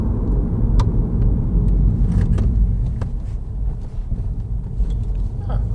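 A 300 bhp Mini JCW rolls over speed bumps: a loud, constant low engine and road rumble from inside the cabin, with a slight dip midway and faint thumps and rattles on top.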